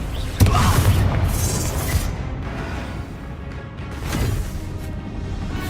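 A Confringo blasting spell goes off in the Hogwarts Legacy video game, starting with a sharp burst and then a deep, rumbling boom that fades into lingering low roars, with a second swell of rumble near the end.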